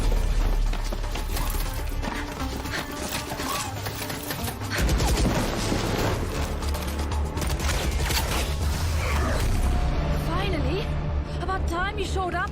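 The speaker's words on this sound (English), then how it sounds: "We're picking up gunfire." Gunfire in the video game Valorant during a Sentinels versus Fnatic VCT Reykjavik match, with dense bursts and clatter under game music and voices.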